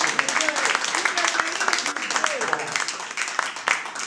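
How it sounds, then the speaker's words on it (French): An audience applauds steadily while a host keeps talking loudly over the clapping on a stage show. "Encore un tonnerre d'applaudissements pour le roi de la parole."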